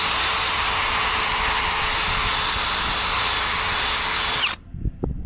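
A wire wheel grinding thick rust off a Chevy Silverado wheel, a loud steady high whir for several seconds that cuts off abruptly, followed by a few faint clunks.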